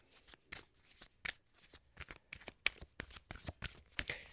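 A deck of cards being shuffled before a tarot-style reading: a quick run of crisp riffling bursts and papery snaps, close and fairly quiet, with no voice.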